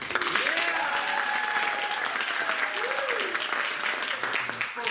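An audience at a holiday watch party claps steadily for about five seconds to vote for an option, a dense, continuous round of applause while a voice talks over it.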